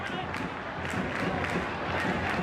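Football stadium crowd at an Atletico Madrid versus Lleida match applauding, a steady broad wash of clapping and crowd noise filling the stand, continuous and fairly even throughout.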